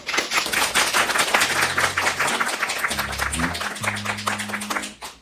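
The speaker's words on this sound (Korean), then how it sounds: "우리 노창희 대표님을 큰 박수로 환영하시죠" An audience at an in-house company lecture at a real estate brokerage firm gives loud, dense applause to welcome the speaker, with the claps continuing steadily and then tapering off. A faint tone sounds underneath.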